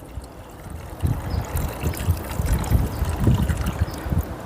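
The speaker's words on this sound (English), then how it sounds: "I'm just going to pour in the water and chicken" A water and chicken juice mixture pours into a pot in a van kitchen, a continuous gurgling, sloshing stream heard close up with uneven splashes and no talking.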